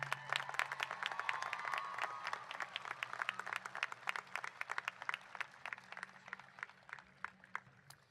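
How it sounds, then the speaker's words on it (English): A high school commencement audience breaks into applause for graduating valedictorians, many hands clapping in a dense, lively patter that stays strong and gradually thins toward the end, with faint background tone underneath. "let's congratulate all 5 of our valedictorians with a round of applause."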